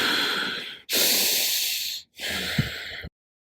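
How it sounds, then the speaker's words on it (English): Strong, forceful breathing during a yoga breathing exercise: three long, loud rushing breaths through the nose, close up, each cut off sharply before the next, ending in silence. "Strong inhale, strong exhale."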